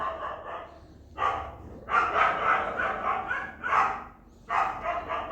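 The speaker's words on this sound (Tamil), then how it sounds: "கோயம்புத்தூரில் நாய் தொந்தரவு அதிகமாகிடுச்சு." Several dogs in Coimbatore bark in repeated bursts, a few sharp barks at a time with short pauses between, fairly close and loud with nothing else over them.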